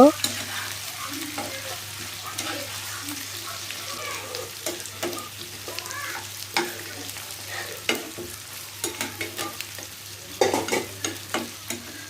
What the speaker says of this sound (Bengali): চিংড়ি মাছটা আমি একটু তেলের ভিতরে ভেজে নিব